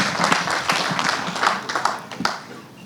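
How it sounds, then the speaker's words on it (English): At a university graduation ceremony in Mbarara, the audience claps to welcome an arriving dignitary. The applause is moderately loud, with distinct individual claps, and tapers off toward the end. "Please receive him with a round of applause."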